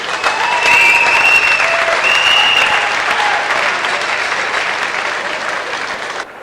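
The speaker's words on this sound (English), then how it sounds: "give Con a big round of applause there" An audience at a kickboxing event breaks into loud, sustained applause with some crowd cheering, clapping steadily for about six seconds before fading at the very end.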